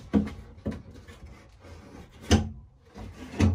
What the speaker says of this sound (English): I do have to remove one drawer,